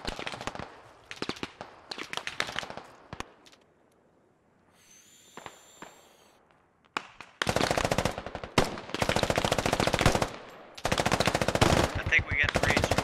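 Bursts of automatic gunfire from the video game Squad, long sustained rattling volleys with short pauses between them, loud and close, mixed with scattered single shots and a brief lull.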